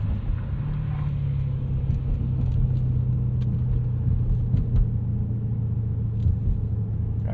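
A 1998 Lexus GS 400 V8 fitted with a Megan catback exhaust, heard from inside the cabin while driving: a steady, deep, loud droning engine rumble that holds constant throughout.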